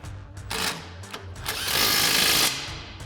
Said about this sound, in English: tighten down our bottom shock mounting bolt using our 18mm socket on our impact